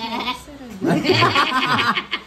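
A goat bleat sound effect triggered during a live stream, a wavering animal cry, with laughter-like chuckling and a voice mixed in over the short burst.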